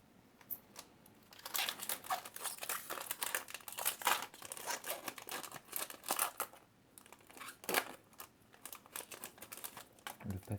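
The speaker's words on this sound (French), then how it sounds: "Le papier de ces boosters, c'est une catastrophe." Paper wrappers of Pokémon card booster packs crinkle and tear in close, irregular bursts of crackling that vary in loudness throughout.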